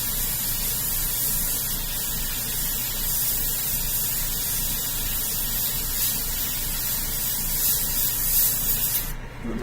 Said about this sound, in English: we'll come back and spray some yellow on top